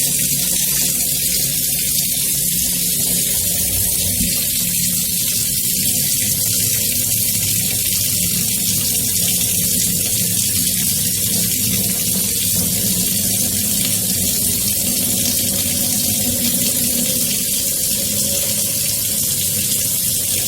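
Hot water poured off lemons being prepared for pickle drains into a kitchen sink as a steady, continuous splashing gush from start to finish, with no voices.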